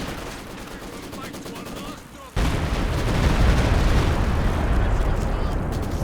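Stuka dive bomber barrage in a Company of Heroes 2 multiplayer 2v2 battle: quieter combat ambience breaks into a sudden, loud, sustained roar of overlapping explosions and gunfire that rumbles on to the end.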